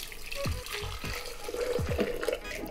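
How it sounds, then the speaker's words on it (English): Onion pasta water is poured into a blender in a kitchen, giving a steady liquid splash with a few gurgling glugs close by and at moderate volume. "We've got this onion water, onion pasta water going in the blender."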